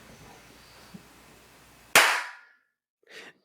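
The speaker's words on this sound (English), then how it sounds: "That was a good clap." A single sharp hand clap rings out in a room, its bright crack followed by about half a second of decaying reverb tail, preceded by faint background noise and followed by a short, softer sound after silence.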